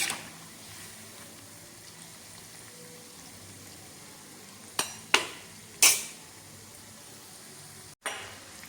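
Street-style vegetable Manchurian balls deep-frying in oil give off a steady, soft hiss, broken near the end by a few sharp metal clinks of a utensil against the pan; no one speaks.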